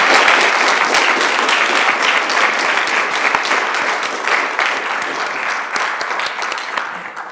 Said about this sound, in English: I think a big round of applause is in order